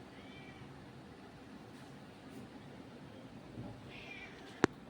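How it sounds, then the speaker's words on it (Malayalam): A cat meows faintly a couple of times in a quiet room, soft distant cries at the start and near the end, followed by a brief sharp knock. "ഇപ്പം പൂച്ച വന്ന് രാവിലെ ശല്യം ചെയ്യാൻ തുടങ്ങിയിട്ടുണ്ടാകും."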